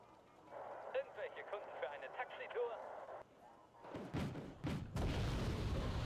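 A Marder 2 armoured vehicle's weapon firing in a war video game, with a few heavy booming shots and thuds following a stretch of muffled speech-like chatter.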